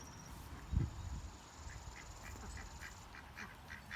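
Geese and young goslings calling on a farm, with a single louder honk early on followed by faint, scattered quacking calls over a low outdoor background.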